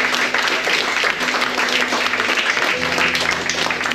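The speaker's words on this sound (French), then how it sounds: "Eh ben, on peut l'applaudir." Audience applause at an art exhibition opening, a steady wash of many hands clapping in a room, with faint tonal hum running underneath.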